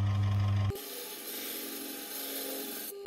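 A honyaki kitchen knife sharpened on a whetstone, a steady close abrasive rasping stroke that runs for about two seconds between brief stops.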